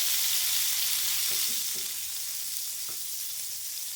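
Butter melting in a pan for white sauce hisses with a steady, bright sizzle that slowly softens, broken by a few faint knocks of a utensil, with no talking.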